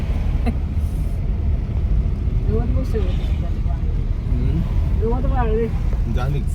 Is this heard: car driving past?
yes